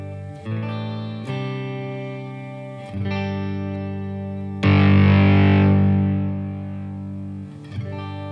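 Electric guitar run through a Kingtone Mini Fuzz pedal into a clean amp, playing a few sustained fuzzy chords with rich harmonics, one hit harder and ringing out before it fades.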